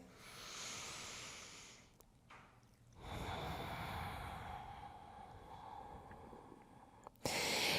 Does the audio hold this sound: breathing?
yes